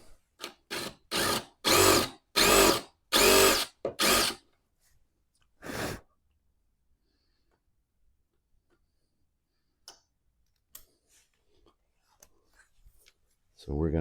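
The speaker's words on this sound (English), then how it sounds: "Come back with the drill bit." A drill bit bores a hole while a shaker table top is installed: a run of short, loud, evenly spaced bursts followed by a single later burst, then near silence with small taps.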